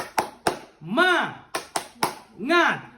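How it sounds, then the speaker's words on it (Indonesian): Schoolchildren in a multi-grade classroom perform a rhythmic spirit clap: sharp claps in two short pairs, each followed by a chanted, sing-song vocal call, repeated twice in a steady pattern. "Tepuk semangat dulu. Tepuk semangat."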